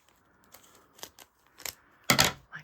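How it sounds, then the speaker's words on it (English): Several sharp, separate snips and crackles from a blade slicing through packaging wrapped around a painting, the loudest cut coming near the end, with quiet pauses between. "Now I'm going to very carefully cut this open because I don't want to cut the"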